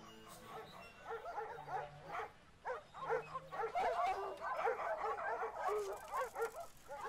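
A dog yips and whimpers intermittently in a home, its short bursts mixed with other sounds and faint voices throughout.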